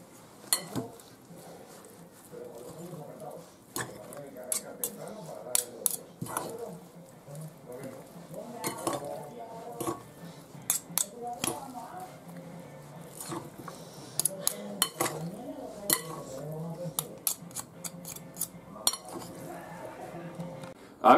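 A utensil clinks against a bowl in scattered light taps while pasta salad with tuna and mayonnaise is mixed, soft and close, with occasional talking.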